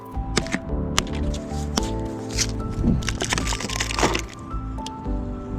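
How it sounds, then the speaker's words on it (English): Protective plastic being peeled and pulled off a new Macfox X7 e-bike, giving a close, irregular series of crackling rips and crinkles with sharp snaps. "Let's take off the rest of the plastic."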